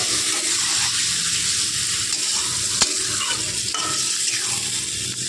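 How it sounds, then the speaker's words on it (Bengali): Kohlrabi curry sautéing in a pan as water is poured in, producing a loud, steady hiss and sizzle with one sharp click near the middle and no voices. "মামনি একটু কষিয়ে নিল, এবার দিয়ে দিচ্ছে জল"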